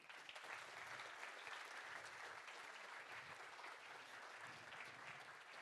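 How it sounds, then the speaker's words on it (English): At a Speck&Tech tech meetup, an audience gives steady, sustained applause for a speaker, even dense clapping throughout at a modest distance. "Big applause for her."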